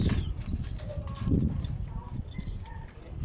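Pigeons flap their wings in short, close flurries, with someone speaking nearby over the fluttering.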